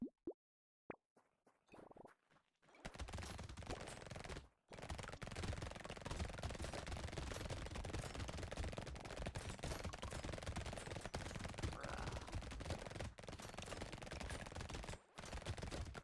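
SMG gunfire from the video game Brotato, with the Abyssal Terrors DLC, comes as a dense, continuous rattle of rapid shots. It starts after a few quiet seconds, breaks off briefly twice, and stays loud with no talk.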